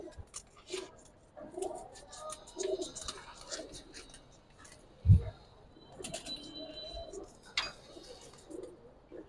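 Giribaz pigeons being sold in pairs, one bird's coo standing out among faint chirps, clatter and occasional talk, with a single louder thump midway.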